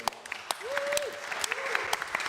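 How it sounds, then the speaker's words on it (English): An audience at an awards event claps in a round of applause with sharp, scattered handclaps, while a voice briefly sounds over the clapping. "So another massive round of applause."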